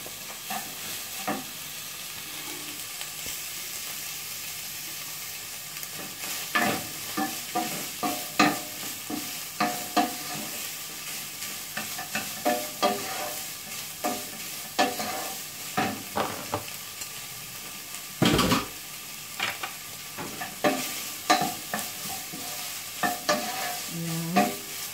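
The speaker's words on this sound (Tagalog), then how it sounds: "Lagay niyo yung beef." Ground beef for chilli con carne fries in a pan, a continuous sizzle broken by frequent scraping, clattering stirs that come in irregular bursts, close and fairly loud, with no talking.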